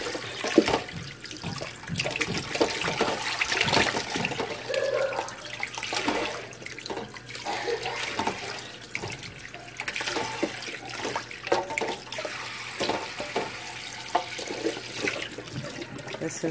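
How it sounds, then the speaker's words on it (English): Cold tap water runs steadily into a pan as oxtail is rinsed a second time with vinegar in a home kitchen, a continuous close splashing and trickling broken by occasional clinks and handling noises. "put some vinegar in the pan with some water and rinse it again one more time"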